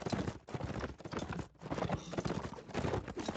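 Hooves of Serenian war horses in a video game clip-clopping in quick bursts, a few separate runs of hoofbeats with brief gaps between them, moderately quiet.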